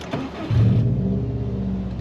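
A car engine cranks briefly and catches, then settles into a steady, smooth idle rumble, close and fairly loud with no talking.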